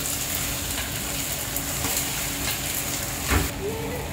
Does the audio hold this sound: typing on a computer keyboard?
no